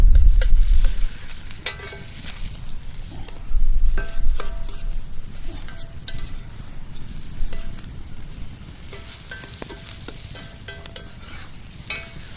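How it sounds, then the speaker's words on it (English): Cowboy stew with steak sauce and ketchup being stirred in a pot, with scraping strokes and a bubbling sizzle close by, louder at the start and then settling, with no talking. "we're just going to mix that all up together, stir it around"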